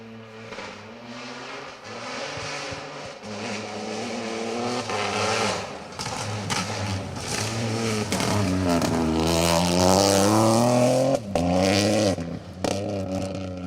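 A Peugeot rally car on a special stage of the Cambrian Rally, its engine sounding rough and unhealthy as it approaches, revs hard and passes close by, with rising and falling engine notes and a brief clatter.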